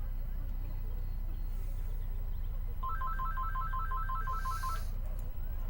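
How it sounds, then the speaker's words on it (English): Mobile phone ringtone, a repeating two-tone electronic trill of about two seconds, clear over a low background rumble and faint voices. "I'm sorry about my phone."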